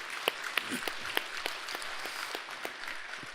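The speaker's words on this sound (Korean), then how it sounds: "해주 스님께도 다시 한번 큰 박수 부탁드리겠습니다" Scattered applause at an academic award ceremony honoring a monk, sparse individual claps standing out over a faint, thin patter in a hall, fading toward the end.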